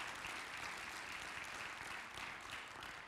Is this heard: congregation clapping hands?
yes